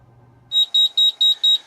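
A fire alarm sounding after a control panel activation in an entrance foyer, six loud, evenly spaced high electronic beeps following a low hum, close and alone.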